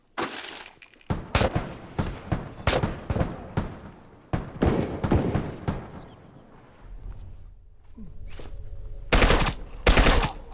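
Rapid bursts of gunfire ring out in The Last of Us multiplayer: loud, sharp volleys spaced through the first half, a quieter stretch with a low hum, then two heavy final blasts.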